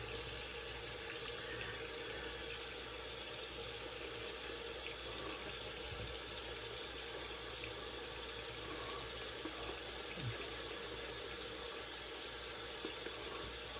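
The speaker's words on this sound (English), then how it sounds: "This soap will take on quite a bit of water." Water runs steadily from a tap while being added to shaving soap during a wet shave, a continuous close hiss with no talk.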